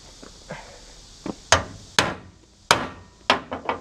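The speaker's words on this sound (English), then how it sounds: "Nothing a hammer couldn't fix." Sharp metallic hammer strikes, first a few lighter taps and then harder, ringing blows at an irregular pace, close by with no talking.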